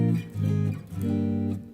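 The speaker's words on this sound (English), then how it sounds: "that's the sound of the Phrygian" A guitar plays a short Phrygian mode phrase of sustained notes in two swells, clear and close, with no voices.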